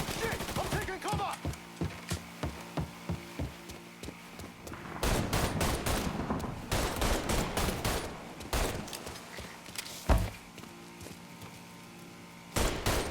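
Gunfire in the Mafia 3 video game: a rhythmic string of single shots, then heavy bursts of automatic fire with pauses between volleys, loud and close.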